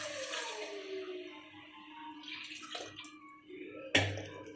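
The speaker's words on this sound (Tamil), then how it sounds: "இப்போ தண்ணியை இதில் சேர்த்துக்கலாம்" Water is poured into basmati rice in a pot for mushroom biryani, a close splashing pour that gurgles and shifts pitch, ending in a sudden louder splash.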